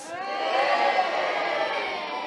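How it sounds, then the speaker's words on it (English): A pantomime audience for Sleeping Beauty gives a sustained cheer, a bright mass of voices with children whooping, moderately loud and fading slightly. "Now, we need your help. Whenever you see one of our heroes, you need to give them a big cheer"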